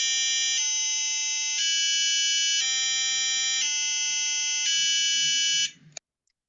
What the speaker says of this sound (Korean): 우리 도레미 소리 내고 끄기를 한번 해볼 건데요